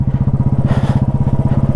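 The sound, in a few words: motorcycle engine pulling away on Baralacha la Pass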